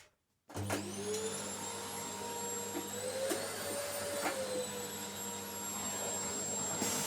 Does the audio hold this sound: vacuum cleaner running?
yes